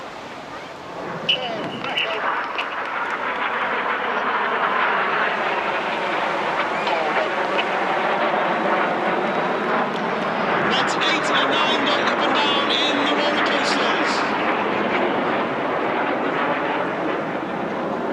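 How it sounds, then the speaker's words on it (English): Red Arrows jets dive low over the sea at a seaside airshow, their broad roar rising and swelling in the distance and then easing away. A commentator talks over the noise. "Each aircraft will now dive down to approximately 100 feet over the sea."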